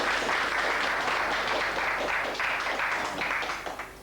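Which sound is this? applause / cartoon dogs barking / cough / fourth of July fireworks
applause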